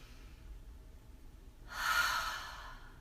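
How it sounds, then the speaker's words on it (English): A single deep breath is drawn in and slowly let out near the microphone, a soft airy rush that swells and fades in an otherwise quiet room. "Take a deep breath."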